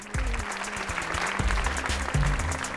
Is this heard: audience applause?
yes